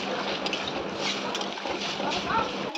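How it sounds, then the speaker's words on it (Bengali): Water poured into a cooking pot while making a low-oil paneer curry, a steady close rushing splash filling the whole stretch without pause. "এরপর এতে পরিমাণ মতো জল দিয়ে দিচ্ছি"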